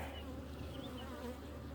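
Honeybees buzz in a steady, faint drone at an open hive, a continuous hum with no voices.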